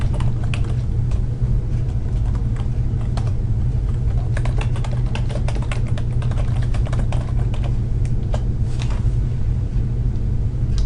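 A computer keyboard is typed on in continuous close clicking at an uneven rhythm, layered over a loud, steady low rumble from the room.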